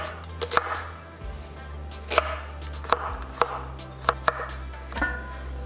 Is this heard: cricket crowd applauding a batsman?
no